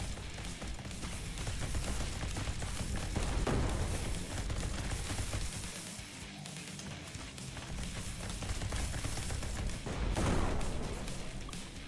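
Dense, continuous gunfire and blasts from a first-person tower defense shooter, a steady loud barrage against waves of monsters with heavier bursts near the middle and end.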